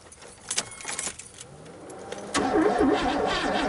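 A 1986 Oldsmobile Cutlass that has sat unused for five years is turned over: keys jingle and an initial click, then from about 2.3 seconds the starter cranks the engine steadily and loudly until the end, with no talking.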